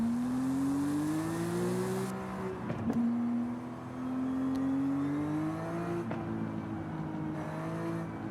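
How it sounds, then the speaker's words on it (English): Car engine in Forza Horizon 5 winding down under engine braking during a stadium track day, a steady droning tone that dips and rises in pitch over about eight seconds, close and continuous with no talk. "Not really braking, just kind of letting the kind of letting the engine do the braking"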